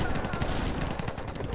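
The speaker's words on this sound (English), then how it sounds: "that's like gunfire" Rapid gunfire sound effects from the video game Library of Ruina rattle in a dense, continuous burst, loud and close for a second or so.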